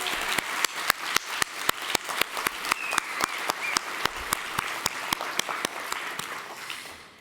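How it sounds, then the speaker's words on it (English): Rhythmic, fairly even hand clapping from an audience at a Perth summit workshop session, steady beats running for about seven seconds at moderate loudness before fading out. "I would like you to join me in a round of applause for Paula and Committee of Perth."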